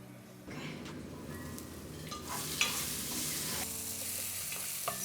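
Tomatoes cook in a covered pot on medium-low heat for beef stew, giving a steady, soft sizzle and bubbling. The sound stays quiet and continuous, with a slight rise partway through and no talk.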